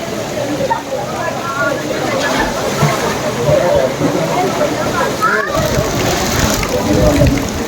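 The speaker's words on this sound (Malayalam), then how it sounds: "ഇവിടെ നമ്മുടെ ഗ്രൂപ്പിലെ മെമ്പർമാരൊക്കെ ഒന്ന് നീന്തലുണ്ട്" Group members swimming in a river beside a temple set within the water, with steady sloshing and splashing close by and people talking over it.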